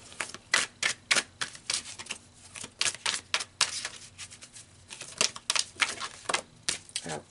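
Tarot cards shuffled and drawn for a Pisces spiritual reading, a close run of quick papery flicks and snaps in uneven bursts, with short pauses between riffles.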